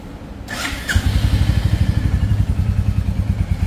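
A Royal Enfield Classic 350 motorcycle fires up and settles into a steady, close thumping single-cylinder idle with a pulsing beat, loud and alone without talk.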